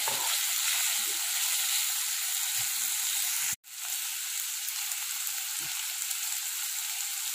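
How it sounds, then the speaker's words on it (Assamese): Elephant foot yam (olkochu) pieces fry in hot oil in a pan with a steady, close sizzle, broken midway by one sharp clatter, with faint stirring knocks underneath. "এইদৰে আপোনালোকেও প্ৰথমতে উলকচুখিনি অকণমান ভাজি ল'ব।"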